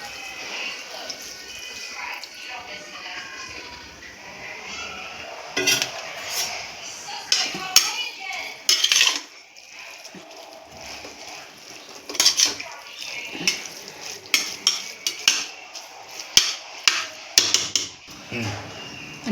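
A spoon scrapes and clinks against a pan while gajar halwa is stirred and sautéed, producing irregular metallic knocks and scraping over a steady sizzle, with a voice talking faintly in the background.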